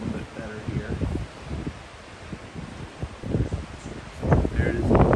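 Strong gusting wind at Cape Horn buffets the microphone with a steady low roar, swelling louder toward the end, with a voice speaking through it at points.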